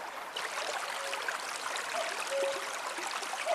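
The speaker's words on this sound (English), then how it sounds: "I have to say, the river sounds gorgeous." A river flows steadily outdoors in spring, a soft, continuous broadband rush of moving water, fairly close and even, with a few faint bird chirps over it and no talk.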